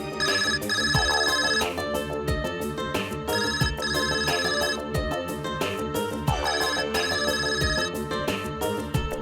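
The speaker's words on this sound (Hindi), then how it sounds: "किस बदतमीज का ये फोन है? बंद करो उसको।" A mobile phone ringtone rings loudly and insistently in a courtroom, a repeating melodic electronic tune that cycles several times without pause.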